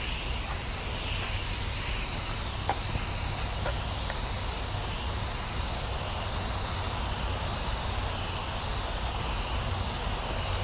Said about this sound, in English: if you've never used a rattle can, really what you want to do is get about a foot from it